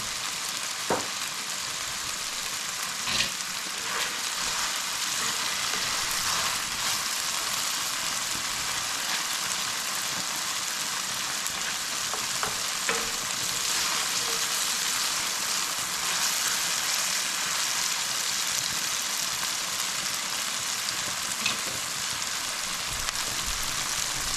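Potatoes frying in oil in a pan make a continuous even sizzle, close and steady throughout, with a few faint pops and spatters.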